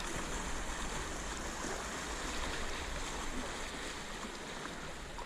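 Steady broadband rush of waves splashing around a paddleboard near rocks on open water, continuous and fairly loud throughout with no voices.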